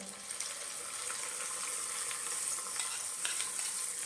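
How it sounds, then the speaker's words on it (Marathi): Hot tempering for a chutney served with idli gives a soft, steady sizzle and crackle that holds evenly throughout, faint and close with no voices. "आता आपण ही गरम गरम फोडणी चटणीवरती घालायची आहे"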